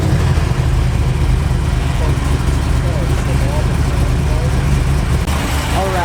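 A Pontiac WS6 Trans Am with an LS7 swap, ProCharger supercharger, about 800 horsepower and an American muffler, its engine a steady, deep, loud rumble heard from inside the car under ongoing talk.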